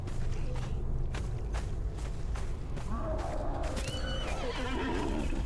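A horse whinnies loudly over constant background noise in the game Conan Exiles, with hooves clip-clopping and faint mechanical sounds, no talking.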